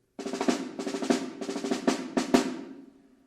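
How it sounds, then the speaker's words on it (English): Rapid snare drum strokes with crisp rattling buzz, played as rolls and accented hits in a quick pattern, ending with a fading ring. "This is the snare drum."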